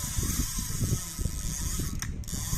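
Rapid ratcheting clicks from a vintage Daiwa EX-1000 spinning fishing reel, a steady close-up whirring tick that runs continuously with a brief change near the end.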